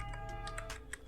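Computer keyboard keys being pressed while entering a CSS file name, a short run of soft, quiet clicks at an uneven pace, close by and alone.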